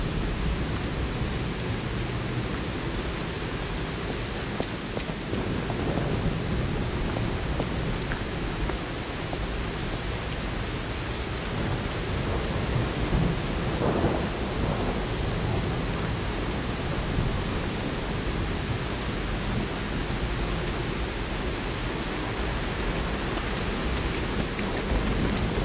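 Dense, loud rain ambience in the game Lies of P, a constant hissing downpour with low thunder rumbling through it, steady and enveloping with no voices.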